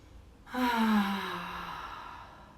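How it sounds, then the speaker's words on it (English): A single long, audible exhale during a yoga cleansing breath, starting suddenly and trailing off slowly with a soft, voiced sigh-like tone, close to the microphone and otherwise quiet. "Super cleansing breath."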